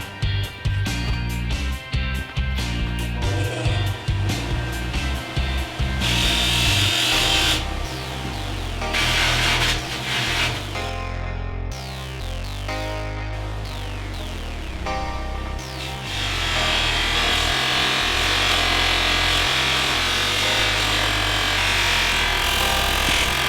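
Buffing wheel working a hand-built metal blower belt guard, a loud close whirring grind with shifting pitch, brief pauses and pressure changes, then a sustained stretch of steady buffing.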